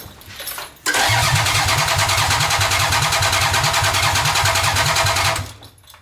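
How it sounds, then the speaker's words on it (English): A Toyota MR2 engine fires for the first time: brief quiet, then a sudden loud start settling into a rapid, lumpy, pulsing idle that runs steadily for several seconds before cutting off, close by. "It's cranking. That's a good sign."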